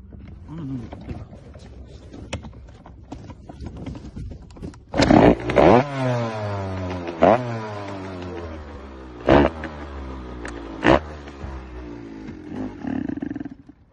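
A KTM 105 dirt bike engine catches and revs hard, rising and falling in several loud throttle blips with sharp two-stroke crackle, close by, before settling to a rough idle.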